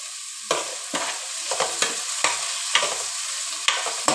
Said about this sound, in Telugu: ఆనియన్స్ ఎండుమిర్చి అయితే వేసాను చూడండి